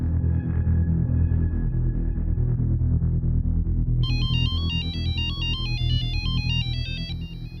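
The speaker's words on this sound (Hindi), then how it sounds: "इतनी रात को फोन किया?" A phone ringtone plays loudly at night, with a steady electronic melody that repeats in a stepping, sonar-like pattern over a constant low background drone.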